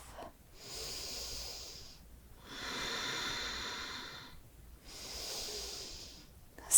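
Deep yoga breathing during a flow practice: three long, airy breaths drawn in and pushed out through the nose, each a steady hiss of several seconds separated by brief quiet pauses, close and alone with no talking.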